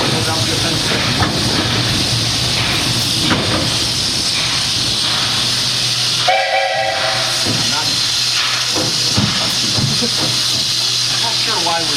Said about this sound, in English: They're authentic steam trains, built in the Locomotive factory back in Philadelphia, outside Philadelphia, Pennsylvania.